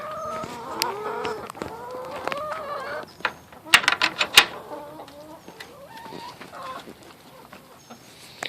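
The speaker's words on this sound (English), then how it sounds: "I'm going to show you what the chickens do with the pulp" Backyard chickens in a coop cluck and squawk at close range while pecking at almond pulp, with a burst of sharp, louder calls in the middle and softer murmuring clucks around it.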